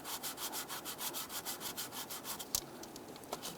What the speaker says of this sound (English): I want to go ahead and just lightly sand the surface